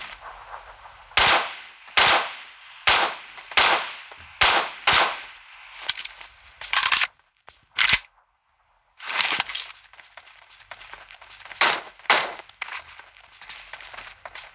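Repeated gunfire from a video game, mostly single sharp shots in irregular quick succession with brief bursts, loud and close, with a short silent gap in the middle and quieter shots trailing after.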